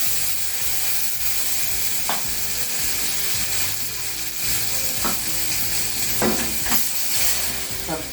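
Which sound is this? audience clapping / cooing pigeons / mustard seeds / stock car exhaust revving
mustard seeds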